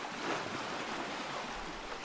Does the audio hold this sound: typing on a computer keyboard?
no